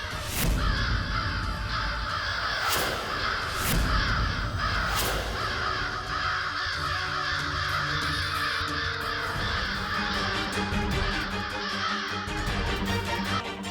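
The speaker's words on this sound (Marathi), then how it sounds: "किती हा कर्कश आहे कावळ्यांचा आवाज." A crowd of crows caws loudly and harshly, overlapping calls repeating continuously and close by, with no one speaking.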